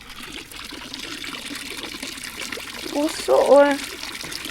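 Water flows steadily in an outdoor fountain with a continuous soft trickle and splash, while a person talks briefly over it near the end.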